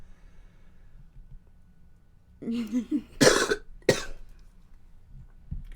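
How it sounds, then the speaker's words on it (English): Two sharp coughs close to the mic, preceded by a brief throat-clearing rasp, against a quiet low hum. "I'm sorry about the cough, y'all"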